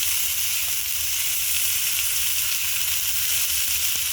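Cauliflower stalks fry in hot oil with dried chillies, giving a steady, close sizzle and hiss that runs unbroken throughout with no voices.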